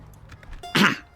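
A single cough bursts out close and loud in a quiet room, one short harsh exhalation standing alone with no talk around it.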